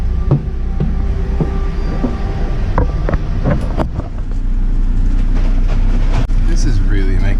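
Subway train in motion, a steady low rumble of the car riding the rails with clanks and rattles throughout, while people talk nearby over the noise.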